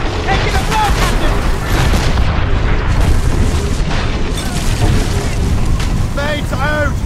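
Ship cannons fire in the naval combat of the video game Assassin's Creed Rogue, a dense run of heavy booms and rumbling blasts with whistling shots, under continuous shouted voices.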